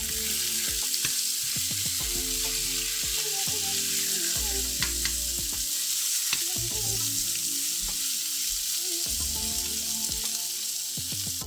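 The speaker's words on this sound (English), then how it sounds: "Stir and cook the pork thoroughly." Pork stir-frying in a pan with oil and ginger sizzles and crackles continuously, broken by irregular scrapes and clinks of stirring, close and fairly loud.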